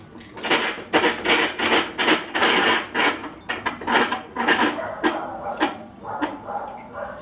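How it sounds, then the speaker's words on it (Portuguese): A hammer or small sledge being tightened into a bench vise in a workshop, giving a run of rhythmic rasping, grinding metallic strokes close by with short pauses between them. "Você vai pegar um martelo, uma marretinha, qualquer coisa, e vai prendendo no torno assim"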